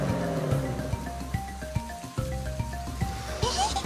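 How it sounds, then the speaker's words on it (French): Cartoon paint pours down like rain onto animated cars during an obstacle race, a dense patter of drops over a looping musical backing with repeated plucked notes. "C'est là qu'il pleut de la peinture."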